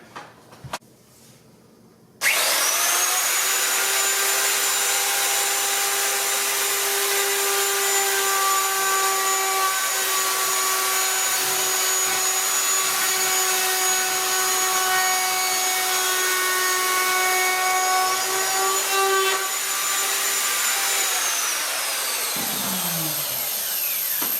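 A newly bought power saw trims laminate side trim on a Formica countertop, running with a steady loud whine for about twenty seconds after a brief quiet start, then spinning down at the end.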